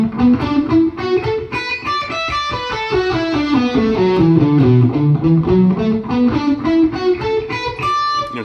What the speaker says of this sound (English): if I kick the delay off, it sounds like this